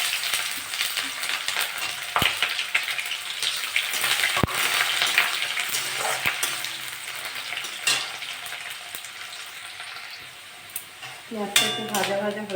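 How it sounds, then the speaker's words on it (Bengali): Whole cumin, dry red chillies and a large chopped onion sizzle steadily in a hot pan, with a few sharp clinks of a spatula and a burst of stirring near the end, no talking. "গোটা জিরে দেবো, কটা শুকনো লঙ্কা দেবো, পেঁয়াজ কেটে রেখেছি একটা বড়, দিয়ে দেবো।"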